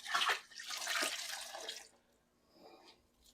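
Sponge wrung and swished in a bucket of cool water while cleaning grout off a subway tile backsplash in a mobile home, close wet sloshing and dripping for about two seconds, then fainter trickles.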